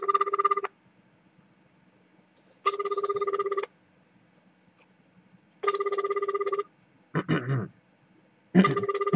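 Telephone ringback tone of an unanswered call to a bar at night, with three clear evenly spaced rings alternating with silence, followed by short vocal grunts or noises near the end.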